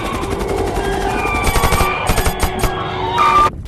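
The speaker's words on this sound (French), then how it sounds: "L'extrait d'un film avec des zombies sur lesquels on tire." Gunfire from a zombie film scene, a dense run of sharp shots and bursts that grows louder toward the end, heard alone without talk.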